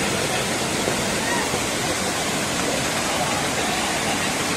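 The Sariya waterfall roars as a dense, steady rush of falling water, loud and unbroken throughout, with no other sounds standing out.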